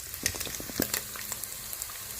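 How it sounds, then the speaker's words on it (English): Ginger garlic paste frying in a hot pan for pilau, a steady close sizzle with a few sharper spatters and stirring knocks, no voices. "I'll add in my ginger garlic paste."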